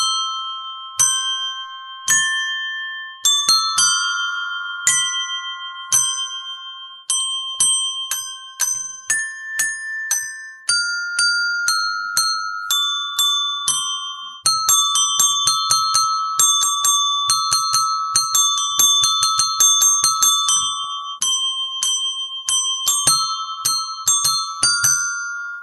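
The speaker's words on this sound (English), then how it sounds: "Here's a bell that rings, and here's a bell that tings." Several desk bells struck one after another in a quick melodic pattern, each a bright metallic ting with a ringing decay, the notes sometimes overlapping in clusters, close and fairly loud with no talking.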